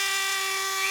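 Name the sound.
Dremel rotary tool running briefly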